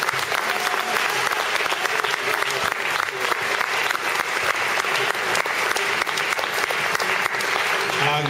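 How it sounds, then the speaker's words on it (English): Sustained audience applause from a crowd at a civic discussion event in Leeds, loud and steady clapping throughout with no pauses. "Let's give a round of applause"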